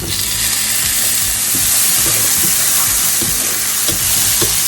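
Onions and tomato fry in a pan for a coconut-milk prawn curry, making a loud, dense, continuous sizzle up close with a few stirring knocks, no talking.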